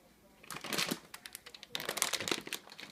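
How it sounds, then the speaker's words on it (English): A bag of oats is cut open and handled up close, giving bursts of crinkling plastic rustle in two stretches, fairly faint, with a voice speaking during the clip. "now we gotta cut open the oats"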